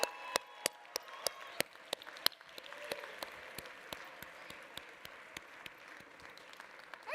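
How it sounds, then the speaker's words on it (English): Audience applause at a charity gala, a steady wash of many hands with a few louder, sharper claps near the front standing out over a moderately loud crowd. "can we give Glenn Flatibo a huge round of applause?"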